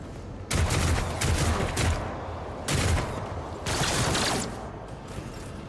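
Gunfire in the game Warhammer 40,000: Rogue Trader, three loud bursts of rapid shots arriving in separate waves, each lasting about a second with a rumbling tail between them.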